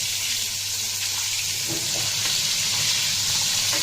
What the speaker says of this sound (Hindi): अभी दोनों तरफ से अच्छी तरह से फ्राई हो जाए